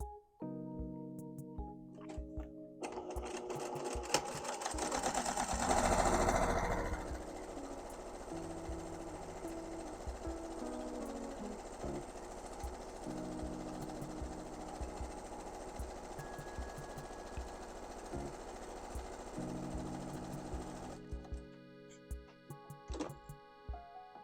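A sewing machine stitches a third row around the circular edge of a fabric drawstring jewelry pouch at a 3/4 inch seam allowance, a close, continuous motor hum with rapid needle ticking that starts after a moment and stops near the end.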